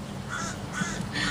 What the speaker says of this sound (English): Even the birds laughing.